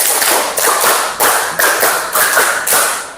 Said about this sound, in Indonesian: Sekarang tepuk 5 2 kali.